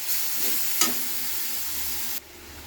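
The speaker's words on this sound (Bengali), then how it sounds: "এবার আমি ভাজতে ভাজতে এইভাবে পুরো একদম তলায় মানে এবার তেলের ওপরে চলে এসেছে ভাজাটা" Spinach sizzles and hisses in hot oil in a wok, a steady fry with a sharp stirring scrape near the start before the sizzle drops abruptly quieter.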